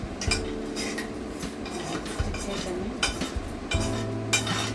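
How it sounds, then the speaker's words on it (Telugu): Metal spoon stirring potato fry in a heavy kadai, with repeated scraping clinks against the pan at an irregular pace, close and moderately loud over a low steady background hum. "ఇప్పుడు పొటాటో ఫ్రై చేస్తాను."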